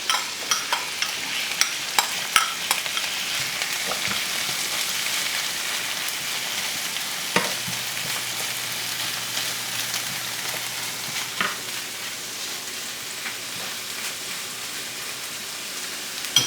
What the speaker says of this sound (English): this is going to saute for a couple minutes